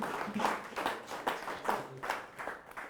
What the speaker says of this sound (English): And guys, please give yourself a huge round of applause.